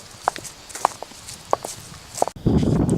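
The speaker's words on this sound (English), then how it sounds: "at the beginning, the footsteps included both artificial and real sounds." Footsteps mixing real and artificial recordings, a series of crisp separate steps at an unhurried pace, then a sudden shift into a denser, louder rustling scuff at the end.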